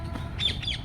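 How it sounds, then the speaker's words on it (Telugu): Birds chirping outdoors, two quick high whistled chirps in under a second against a low ambient background, moderately near with no voices. "చూసిరా పిట్టల సౌండ్ ఎంత బాగుందో"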